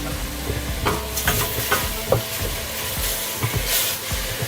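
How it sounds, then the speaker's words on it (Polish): Vegetables, finely cut parsley root and celery with bay leaves and allspice, sauté in a pot as the base for green bean soup, a steady close sizzle broken by repeated clattering stirs. "Nadal to podsmażam."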